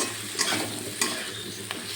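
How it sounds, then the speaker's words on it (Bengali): Potatoes and spices sautéing in a pan for a fish curry with cauliflower, a steady close sizzle with a few sharp scraping stirs of a spatula, no voices. "আলু তো কষতে কষতে সিদ্ধ হয়ে গেছে।"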